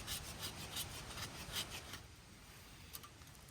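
The back of a knife blade scraping resin-rich fat wood outdoors at a wild camp on an island, a quick series of dry rhythmic rasps close by that fade into quieter scratching.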